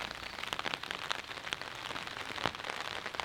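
Heavy rain falls at night during a thunderstorm, a dense, steady hiss of drops striking surfaces with scattered sharper patters, fairly faint and continuous.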